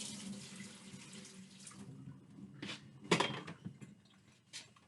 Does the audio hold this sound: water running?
yes